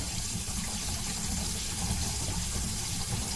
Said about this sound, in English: it almost looks like I might have water coming out here